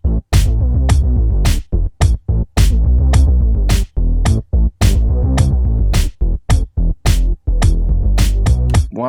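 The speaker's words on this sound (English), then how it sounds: "So with the kick and the snare," A loud beat with a heavy bass line, punchy kick and a hard wave-shaped snare, pulsing in a steady rhythm with brief sharp drop-outs between hits.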